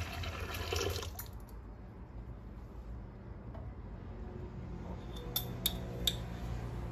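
Warm milk is poured into a mixing bowl while preparing bread dough, giving a steady liquid rush with a few light clinks of the container near the end, no talking.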